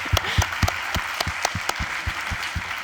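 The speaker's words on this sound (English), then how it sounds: "a round of applause?" A conference audience at a SwiftUI tech talk applauds, with loud, distinct claps standing out above a dense bed of steady clapping that carries on without a break.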